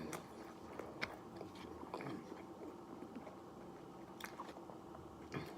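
Biting into and chewing a spicy Habanero McChicken fried chicken sandwich up close, with soft repeated crunchy, squishy mouth sounds alone and no talking.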